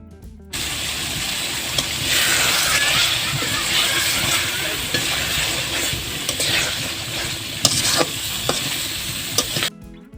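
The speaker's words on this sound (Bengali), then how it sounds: "এবার আমি ধনেপাতা কুচি দিয়ে আবারও ডিমগুলো কিছুক্ষণ নেড়ে নিব।" Egg bhuna with chopped coriander is stirred in a hot pan, giving a loud continuous sizzle with spatula scrapes and a few sharper clacks, running steadily for about nine seconds.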